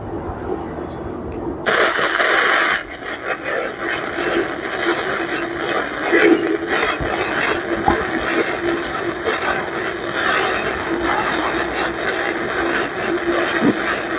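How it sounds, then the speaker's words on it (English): An Andeli MIG-250 flux-core MIG welder running a bead beside earlier stick welds: after a brief quiet start, a loud, steady broadband crackling hiss of the arc holds continuously and up close, with no talking. "we're going to run a MIG weld right down alongside"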